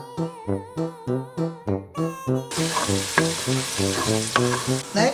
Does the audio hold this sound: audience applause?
no